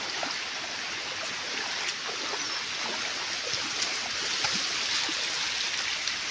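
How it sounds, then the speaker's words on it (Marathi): A rain-swollen stream rushes steadily, a continuous broadband wash of flowing water that holds an even, fairly loud level with no talk over it. "पाणी वाहते पहा सगळं गोडू गोडू पाणी झालंय"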